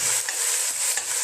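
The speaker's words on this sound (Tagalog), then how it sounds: "Ilagay na natin ang ating meat" Meat hits a hot pot for a maqluba-style Arabic dish, giving a bright, continuous hiss of sizzling with soft stirring movements. Close, brief and unbroken, with no voices.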